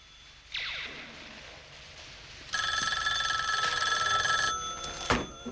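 A telephone bell rings indoors, a short faint burst followed by a louder, sustained metallic ring lasting about two seconds, then a brief clunk as the receiver is handled.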